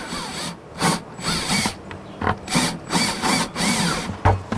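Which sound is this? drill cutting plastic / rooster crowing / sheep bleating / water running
drill cutting plastic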